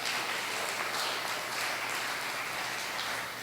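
A church congregation applauds, producing a dense, even patter of many hands that runs on steadily without pause, heard at a moderate distance.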